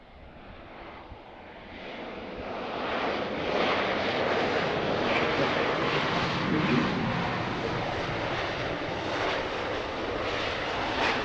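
A United airliner approaches and lands at Harrisburg airport, its engine roar rising from a distant rumble into a loud, sustained broadband drone that holds steady with wind-like texture.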